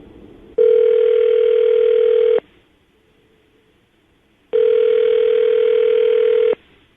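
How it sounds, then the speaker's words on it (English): Two long, loud ringback tones sound on a telephone line while a call is placed, each lasting about two seconds with a quiet gap between them. "we're going to call her right now, get her on the phone"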